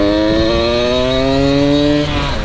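A 1982 Honda MB5 small motorcycle revs up under acceleration, its buzzy, raspy engine tone climbing steadily and loudly close by before easing off at the end.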